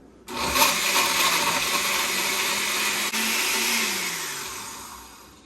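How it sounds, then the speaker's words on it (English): A blender whirs on its smoothie setting while blending a healthy shake for MMA athletes, starting abruptly and holding a loud, steady roar before easing slightly near the end. "You just find the smoothie button and start blending."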